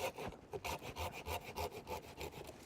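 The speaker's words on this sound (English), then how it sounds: "you want a good sharp pruning saw" A sharp pruning saw cuts through a tree branch in a garden. Quick, even back-and-forth strokes, about three per second, rasp loudly and close with no voices.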